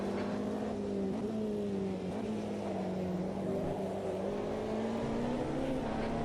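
A race car in the racing game Automobilista 2 runs laps on track, its engine a steady, loud droning whine that holds throughout with slight pitch shifts and no talk.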